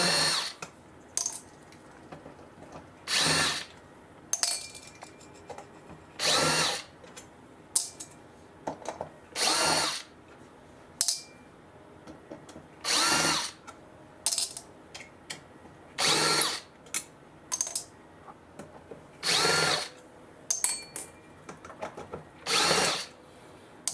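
Screws on an LED parking-lot area light panel are loosened with a power drill in repeated short whirring bursts of one to two seconds, separated by brief pauses with faint clicks, close and clear with no talking.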